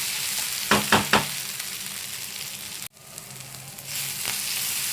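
Onions and ginger-garlic paste sautéing in a pan for a prawn thokku: a steady, close sizzle with three quick knocks of a utensil early on, a brief break, then the frying hiss carrying on alone.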